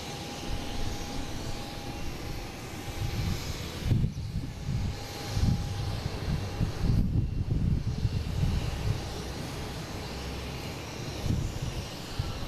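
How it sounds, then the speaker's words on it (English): A Delta Airbus A319 bound for Dallas-Fort Worth taking off at Boston Logan, a distant, steady jet engine roar with low rumbling swells, heard at a moderate level with no talking. "next taking off is that Delta heading to Dallas-Fort Worth, an A319"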